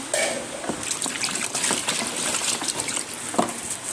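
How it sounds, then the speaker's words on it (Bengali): Raw chicken pieces rinsed under running water at home before cooking, a steady close trickle and splash with uneven bursts as the meat is turned, no talking. "প্রথমে চিকেনটাকে আমি ভালো করে জল দিয়ে ধুয়ে নেব"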